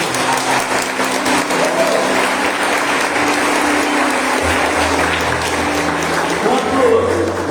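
A church congregation applauds during a celebration service, a dense, steady wash of clapping filling the whole stretch at full loudness, with a sustained musical drone underneath and no clear speech.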